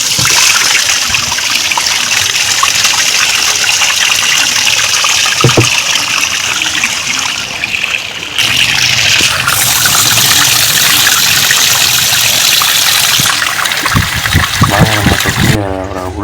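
Water gushes loudly and steadily from two tanks through a released pipe union, cutting off briefly and then resuming with splashing and trickling near the end.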